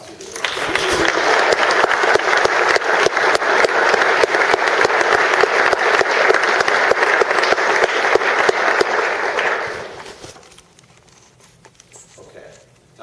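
An audience at an academic conference closing awards session gives a sustained round of applause, dense clapping holding steady for about nine seconds before fading into room quiet.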